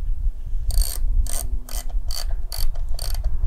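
Deep-well 11 mm socket on a ratchet snugging a console bolt on a Harley-Davidson Breakout, giving six evenly spaced bursts of bright clicking over a low steady hum, close and fairly loud with no talking.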